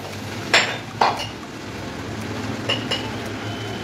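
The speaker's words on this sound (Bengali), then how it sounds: "অনবরত নেড়ে চেড়ে শুকিয়ে নেব।" A spatula or spoon stirring soaked dhoka mixture in a pan: a few sharp metallic clinks against the pan, two early and two or three later, over a low steady background.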